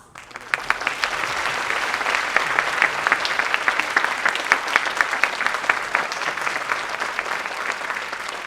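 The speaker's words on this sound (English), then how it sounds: "Let us give them another round of applause." A school concert audience at St. Mark's School gives the symphonic band a sustained round of applause, many hands clapping loudly and evenly from a quick start until the end.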